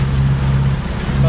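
Sailboat running under engine in light wind and flat water, a steady low motor drone with wind and water noise in a short, close, loud stretch.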